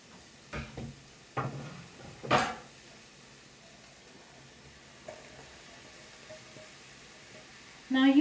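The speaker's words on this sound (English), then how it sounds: "now if you see, the onions and garlic are soft, so we're just going to add all the chopped vegetables" Chopped vegetables tipped into a pan of softened onions and garlic for vegetable pasta, bringing several bursts of sizzling and scraping stirs, then a quieter simmer and a final clatter.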